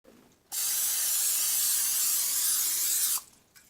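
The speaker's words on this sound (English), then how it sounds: "you are going to spray this with oil" A steady hissing aerosol spray of cooking oil onto a 9 by 13 inch pan lasts about three seconds, close and fairly loud, with quiet moments before and after.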